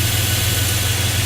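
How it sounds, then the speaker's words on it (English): A 1998 Dodge Ram engine idling up close, a loud, steady low rumble with a constant hum and no variation over a short stretch. "that's my engine of my Dodge 98 Dodge Ram"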